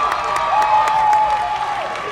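A Florida crowd cheers and applauds at a Little League baseball regional game, a steady roar of many voices and clapping, loud and sustained throughout, with a commentator's voice faintly under it.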